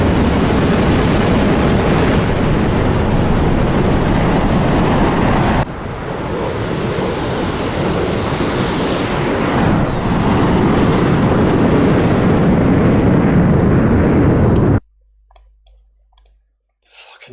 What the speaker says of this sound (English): Missiles going in every goddamn direction